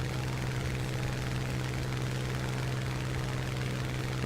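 Ki-84 Ko Hayate fighter engine in the War Thunder game: a steady, unbroken propeller-engine drone with a strong low hum, constant in level with no talking.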